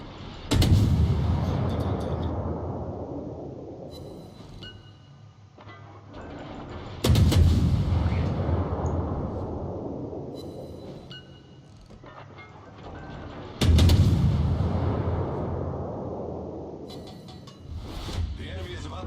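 Big naval guns fire in the World of Warships video game, three heavy booming salvos about six seconds apart, each trailing off into a long rumble. Mechanical clicks and a voice are heard between the shots.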